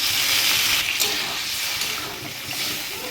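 Water poured into a cooking pot holding soaked Gobindobhog rice, potato and spices for a Bengali fish-head muri ghonto, giving a steady close splashing wash that runs throughout.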